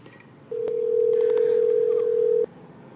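A single steady telephone line tone, like an incoming call signal on a call-in show line, sounds loud and continuous for about two seconds before cutting off abruptly, with faint background noise around it.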